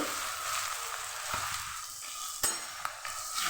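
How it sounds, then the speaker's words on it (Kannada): Grated mango ginger added to a hot pan with fenugreek seeds, a soft steady sizzle of frying under light stirring, with a couple of sharp utensil clinks against the pan. "ಈಗ ಇದಕ್ಕೆ ತುರಿದಿಟ್ಕೊಂಡಿರೋ ಮಾವಿನ ಶುಂಠಿ ಹಾಕ್ತಾ ಇದ್ದೇನೆ"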